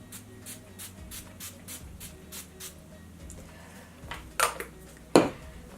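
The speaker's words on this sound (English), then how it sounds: "I'm going to use the Project Beauty Spray Set Go Makeup Setting Spray" Two quick hissing spritzes of a makeup setting spray bottle, close and distinct, after a few seconds of quiet rustling.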